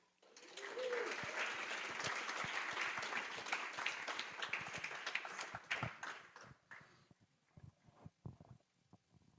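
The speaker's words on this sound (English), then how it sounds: "how's about a round of applause for our good friend and brother, Kealoha?" A crowd at a slam poetry event applauds as a poet is welcomed to the stage, with loud sustained clapping and a few whoops that thin out into scattered claps before fading near the end.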